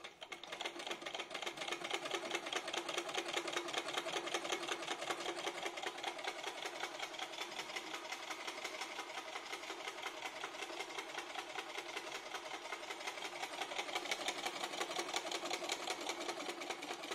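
A pedal-driven sewing machine stitches fabric in a fast, even mechanical clatter that runs steadily throughout, close and alone.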